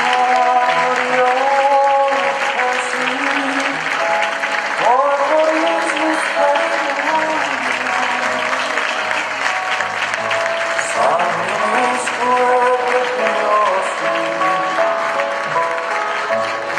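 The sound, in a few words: audience applause for church choir members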